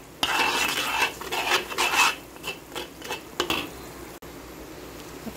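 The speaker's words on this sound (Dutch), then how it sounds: "Ja, is bezig te bakken." Meat frying in a pan, seasoned with pepper, bouillon cube, salt, chicken powder and ginger, with a close, irregular run of scraping and stirring against the pan over a faint sizzle that then settles into quieter frying.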